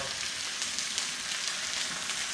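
Sauce simmering and sizzling steadily in a pan while triggerfish cooks, a soft continuous bubbling hiss with no voices.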